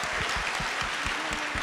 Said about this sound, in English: I really want to give a big round of applause to our students here